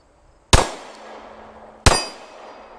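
Two sharp pistol shots from a Glock ring out on steel targets, each a loud crack followed by a ringing metallic clang that decays over about a second, spaced roughly a second and a half apart, outdoors with no talking.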